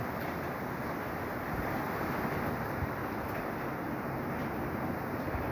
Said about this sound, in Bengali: হালকা বাতাস আসছে